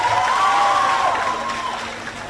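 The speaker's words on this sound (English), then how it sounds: "let's clap a little more loudly for your school" A school audience at an awards ceremony claps and cheers in a steady, dense wash of applause with crowd noise, while a voice carries faintly above it.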